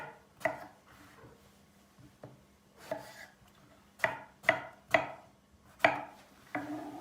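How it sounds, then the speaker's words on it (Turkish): Sharp, irregular knife strikes on a cutting board as eggplant is chopped into cubes, about a dozen chops with short pauses, close and fairly loud with no talking. "Patlıcanlarımızı kuşbaşı doğrayacağız."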